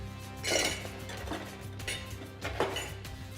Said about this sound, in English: all we really need to do is stir everything together